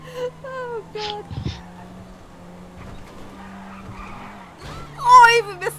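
A car in Grand Theft Auto V skids and spins out with a sustained tire squeal and engine drone, a sharper squeal bursting near the end.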